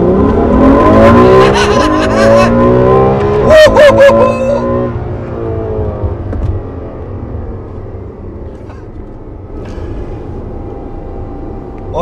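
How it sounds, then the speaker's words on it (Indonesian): Ferrari F12 Berlinetta 2015 launching hard with launch control, a loud close engine roar climbing through revs with a sharp upshift near the middle, then fading into steady road noise as the car pulls away. "Oke, sekarang ada jalanan cukup kosong, kita coba akselerasinya. Launch control."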